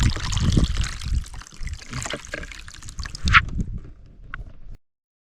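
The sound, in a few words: water poured out through a strainer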